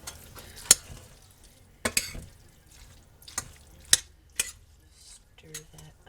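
A utensil clinks and scrapes against a pan while fish and macaroni are stirred, several sharp separate knocks and clatters spaced across a quiet background, with no talking.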